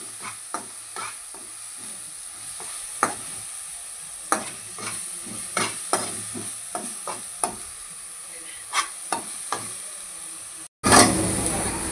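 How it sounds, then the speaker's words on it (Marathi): Ground onion sautés in oil for a bitter gourd bhaji, giving a steady soft sizzle broken by repeated sharp scrapes of a stirring spoon, with a louder burst of frying right at the end. "आता आपल्याला दळलेला कांदा टाकून घ्यायचा आहे आणि कांद्याला चांगलं आपल्याला तेलामध्ये परतून घ्यायचं आहे"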